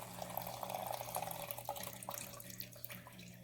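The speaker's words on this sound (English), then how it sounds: "You can see the bubbles as it's aerating." A Vin Fresco electric wine dispenser aerates red wine as it pours, a soft steady trickle with faint bubbling over a low electric motor hum, heard close up without talk.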